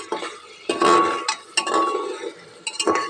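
Garlic egg curry being stirred in a pan with a utensil, giving bursts of scraping and clinking against the metal, up close in three separate strokes with short pauses between them.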